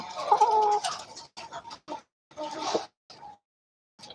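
Chickens clucking and calling in a broiler breeder control house, several close, overlapping bursts of fowl vocalizations with short pauses between them.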